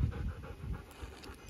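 A dog pants close by in quick, rhythmic huffs, short breathy bursts repeating steadily with no talking.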